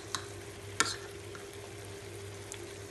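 Chicken for Chicken Maharani cooks on low heat in a pan, giving a faint, steady sizzle broken by a couple of quick spoon clinks as it is stirred.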